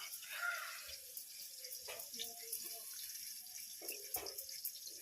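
Water runs from a tap into a sink in a home kitchen where food is being fried, a faint steady splashing trickle with soft clinks, and voices talk quietly in the background.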